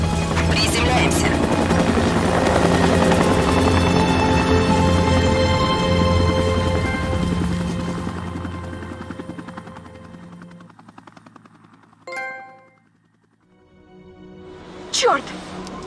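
Helicopter rotor and engine drone in the game Until Dawn, loud and steady at first as the craft comes down, then fading out around ten seconds, with a few sharp bursts afterward and a voice speaking.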